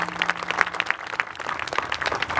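An audience at a kirtan claps together in steady, continuous applause, a brisk patter of many hands heard fairly close, with no talking over it.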